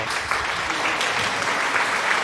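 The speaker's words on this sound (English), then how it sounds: "Round of applause from Sven Gal." Steady applause from a crowd fills the space, a dense, even wash of clapping at moderate distance.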